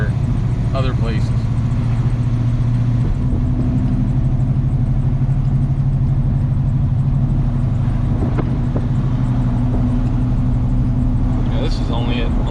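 Flamed hot rod coupe engine idling at about 1100 RPM, a steady low rumbling hum heard up close and continuous, with people talking over it.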